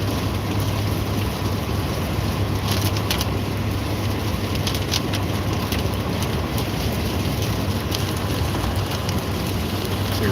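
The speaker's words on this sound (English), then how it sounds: "It's a rainy day." Steady rain on a rainy morning near vineyards, a constant dense hiss and patter at even loudness throughout, with faint low rumble underneath and no voices.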